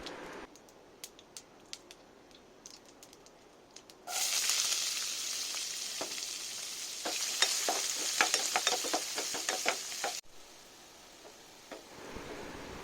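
Finely chopped large onion dropped into a hot pan for a kovakkai curry, starting with light ticks and taps, then bursting into a loud steady sizzle with spatula scrapes before cutting back to a quieter hiss.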